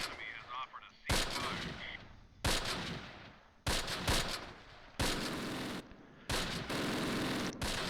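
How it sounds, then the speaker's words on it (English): Bursts of machine gun fire in the Close Combat World War II strategy game, several sharp rattling volleys in irregular succession, fairly loud against a quiet background. "There's machine gun fire right here, but I can't see it"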